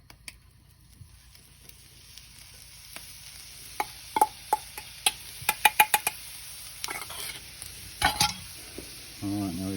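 Oil sizzling and spitting on a hot Weber barbecue hotplate during a stir fry of beef, prawns, vegetables and noodles, with a steady frying hiss broken by sharp crackles and pops, a scraping utensil clatter, and a louder burst near the end.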